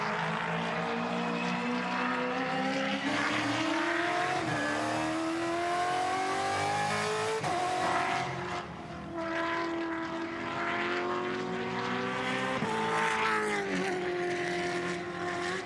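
A Gen3 Supercars Mustang race car engine at Bathurst revs hard and repeatedly, rising and falling in pitch with a loud, sustained roar and brief drops between pulls.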